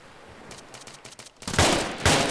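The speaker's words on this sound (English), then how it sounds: "And shots ringing out here." Gunfire in the video game City Life 3: scattered shots early on, then heavy, loud bursts of rapid fire dominate the second half, with no talk.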